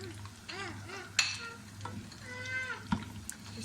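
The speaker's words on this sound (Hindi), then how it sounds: "घी गरम कर लिया है। अब इसमें पूरी शामिल करते हैं।" Puri frying in hot ghee for halwa puri, a soft bubbling sizzle with light stirring clinks and a few sharp taps, heard close alongside faint higher squeaky tones.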